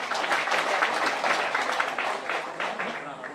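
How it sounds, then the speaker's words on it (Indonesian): An outdoor crowd at a tree planting ceremony claps in a moderate, scattered round of applause that fades slightly toward the end. "Tepuk tangan dulu."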